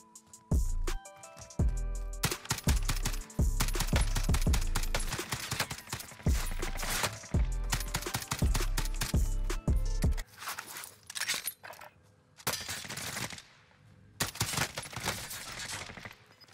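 Rapid gunfire in the video game Warzone from an FAL rifle, a long stretch of sharp cracks and shot bursts fired in quick succession, loud and close, then a sparser run of shots near the end.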